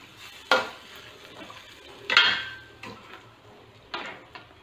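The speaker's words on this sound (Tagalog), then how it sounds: "Mix lang natin." Rice stirred in a thin metal pan makes a few distinct scraping clanks of a spoon against the pan, spaced apart over a quiet background.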